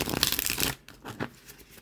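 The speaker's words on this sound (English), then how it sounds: "Even I can do a riffle shuffle with these cards most of the time." Tarot cards of Llewellyn cardstock being riffle shuffled: a short, crisp burst of rapid flutter up close, followed by a few soft taps as the deck settles.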